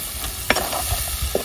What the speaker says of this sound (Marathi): तेला चांगले परतून घ्यायचे